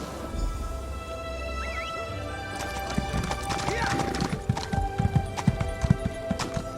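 Horse hooves clip-clop at a steady, rhythmic pace in the Elder Scrolls Online video game, growing more prominent and closer in the second half, with a brief whinny and game ambience underneath.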